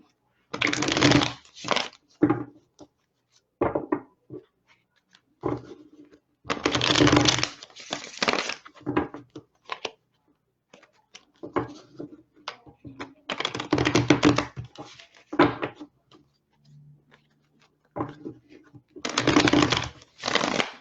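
A Deviant Moon tarot deck is shuffled up close in repeated crisp, riffling bursts separated by short quiet pauses.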